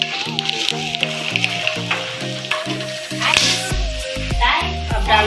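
Whole spices, cardamom, cinnamon pieces, black peppercorns, cloves, dried red chillies and bay leaf, sizzle loudly in hot oil for aloo gosht, a steady close crackle and hiss with stirring clatter and a voice talking underneath.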